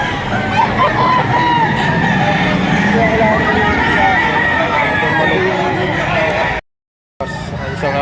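Chickens and roosters at a rainy-day livestock market in Lipa, Batangas, with a rooster crowing and hens clucking amid a dense, steady hubbub of crowd chatter, the sound continuous and fairly loud before a brief dropout near the end.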